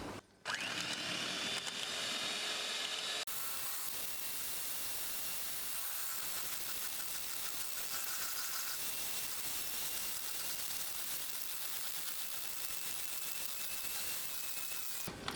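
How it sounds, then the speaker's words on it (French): A small electric hand mixer whips shea butter in a bowl, a continuous, even high whir and hiss that runs steadily and close for the whole stretch after a brief start. "Je prends mon petit batteur électrique et je vais essayer de fouetter ça doucement."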